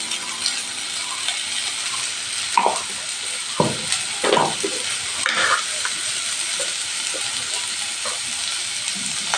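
Vegetables frying in a pan with turmeric added for a fish dish, a steady loud sizzle throughout with occasional stirring scrapes and clinks of a utensil against the pan.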